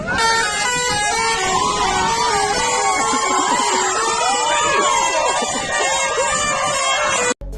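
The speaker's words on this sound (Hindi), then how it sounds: "कुछ लोग ट्रक के नागिन वाले हॉर्न पे डांस करने लगे" A truck's melodic Nagin-tune horn plays on an Indian highway, a warbling musical melody repeating loudly and continuously over traffic and crowd noise, with people cheering and dancing nearby.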